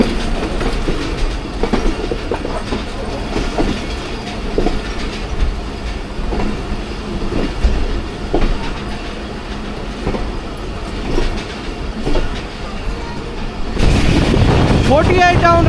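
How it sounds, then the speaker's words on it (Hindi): Rehman Baba Express train passing through Kaluwal station, a steady rumble with rhythmic clickety-clack of wheels on rail joints that grows louder and brighter toward the end as cars roll close by. "डाउन रहमान बाबा एक्सप्रेस कालूवाल थ्रू पास क्रॉस हो रहा है जी 6429।"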